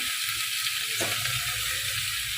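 Potatoes and ridge gourd frying in a pan give a steady, close hiss of sizzling oil that runs unbroken throughout, with no voices.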